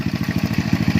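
A motorcycle engine runs close by after a rectifier regulator repair. It makes a rapid, even, thumping idle with a clattery mechanical edge. No one speaks.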